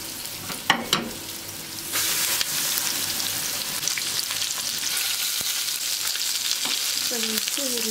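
Chicken pieces sizzle and crackle steadily in a hot pan, loud and close, after a couple of clanks at the start.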